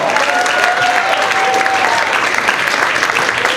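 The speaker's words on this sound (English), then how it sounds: "Come on, start clapping." Steady, dense applause from a comedy club audience greeting comedian Sharon Spell at Carolines, loud and sustained throughout with a faint tonal whistle-like note early on.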